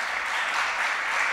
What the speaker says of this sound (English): Can you give them a little round of applause?